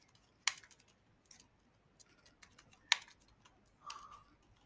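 Sparse keystrokes on a computer keyboard while typing TypeScript code, a few crisp clicks with pauses between them, close and quiet with no talk.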